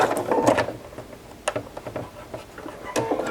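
Sewing machine stitching a fall oven mitt, a close, fast mechanical rattle of the needle with uneven bursts and brief pauses.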